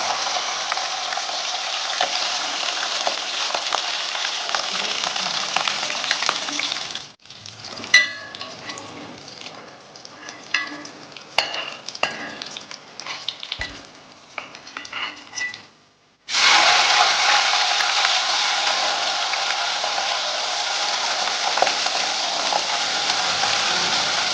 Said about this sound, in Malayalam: വെളിച്ചെണ്ണ ചൂടായിട്ടുണ്ട്. അപ്പൊ നമുക്ക് ആദ്യം ഈ വലിയ മുളക് കൊടുക്കാം.